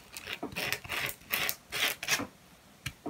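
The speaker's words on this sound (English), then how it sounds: "You can even actually refine your nib with the sandpaper as well." Sandpaper rubbed against a feather quill nib to smooth it, giving a run of short, close raspy scrapes in uneven bursts, separated by brief pauses.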